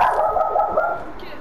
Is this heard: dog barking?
yes